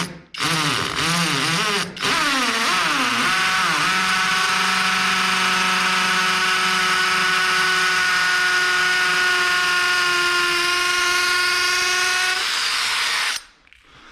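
Electric drill boring holes into a wall for a shelf without hammer action, a loud close whine that wavers and ramps at first, then holds a steady high pitch for about ten seconds before cutting off.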